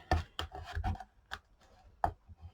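Paper is burnished down by hand onto a mini album page, producing soft rubbing and scraping strokes in short irregular bursts, close and quiet with nobody talking.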